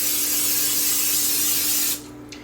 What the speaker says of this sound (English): I'm going to go ahead and spray my pan.